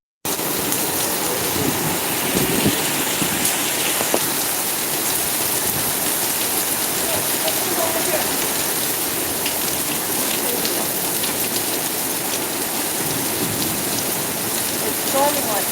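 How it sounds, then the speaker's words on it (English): Heavy rain pours down steadily during a storm in an industrial neighbourhood in Florida, a dense, even hiss that runs loud and unbroken throughout. "It's storming like crazy."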